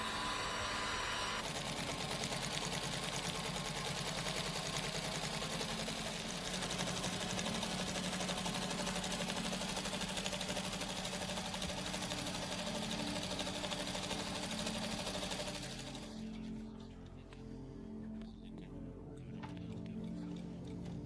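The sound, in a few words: single line sewing machine stitching airship envelope seam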